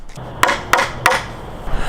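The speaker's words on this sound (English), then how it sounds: "just nail the string into the wood" A hammer strikes a nail into wood three times in an even rhythm, sharp close knocks about a third of a second apart with no talking.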